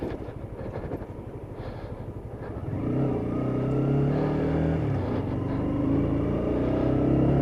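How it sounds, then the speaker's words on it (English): Cars drive past on a road on a foggy, bitterly cold morning, a steady engine rumble and tyre roar that grows louder midway and holds, with no talking. "With half of these cars driving around with no lights on."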